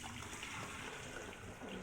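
Water pours steadily into a home humidifier's tank, a continuous near splashing trickle heard alone for under two seconds.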